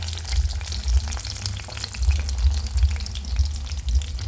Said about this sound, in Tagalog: Ayan, mainit ng mantika. Ilagay natin yung coated eggplant.